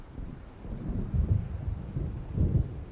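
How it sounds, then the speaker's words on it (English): Low thunder rumbles from a storm approaching over open water in the Alan Wake video game, swelling in two soft, distant waves beneath faint wind and rain. "It seems there's a storm coming."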